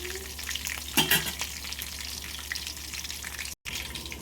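Green chillies fry in hot tempering oil with a steady, close crackling sizzle throughout, briefly punctuated by a louder stir or clatter near the one-second mark and a short dropout toward the end.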